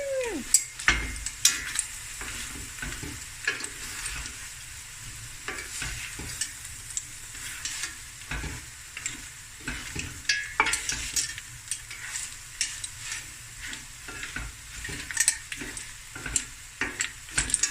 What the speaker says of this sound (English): now we're just gonna stir fry on high heat